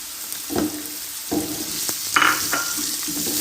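Chopped onions frying in a pan with spice paste for a lentil and vegetable curry, a steady sizzle broken by several scraping stirs and a brief louder clatter.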